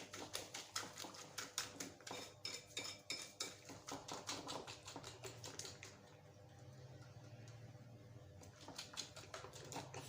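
Sugar, eggs and food colouring being mixed for a besan and egg halwa, the spoon clicking and scraping against the bowl in a quick steady rhythm, close and fairly quiet, with a brief lull midway before the tapping resumes.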